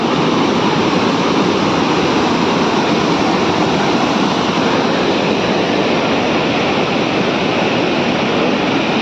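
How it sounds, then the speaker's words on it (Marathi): Napne waterfall pouring with force, a dense, loud, unbroken roar of rushing water that holds steady throughout with no voices. "मित्रांनो या ठिकाणी बघा पाणी किती फोर्स नाही आहे."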